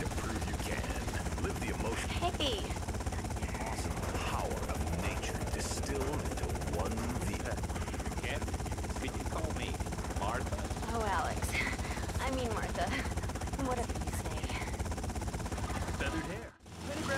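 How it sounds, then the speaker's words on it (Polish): A helicopter hovers as it comes in to land in GTA Vice City. Its steady rotor drone sits under a busy mix of crackling gunfire-like bursts and game noise, then breaks off abruptly just before the end. "I ten helikopter tak po prostu zawisł w powietrzu."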